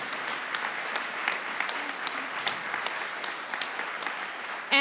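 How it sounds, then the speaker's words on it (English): A large audience at a municipal election candidates' event applauds: dense, even clapping holds steady for several seconds with no talking over it. "And a big round of applause for the candidates."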